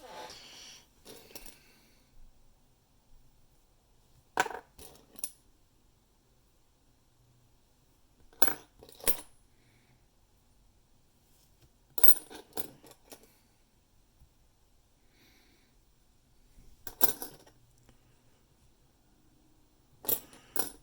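20-cent coins tumbling out of freshly opened coin rolls, several separate metallic clattering bursts a few seconds apart, close and fairly sharp against a quiet room, with no talking.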